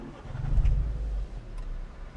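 A Renault Grand Tour station wagon's engine starts by push-button, a low rumbling catch that settles into a quiet, steady idle heard close up.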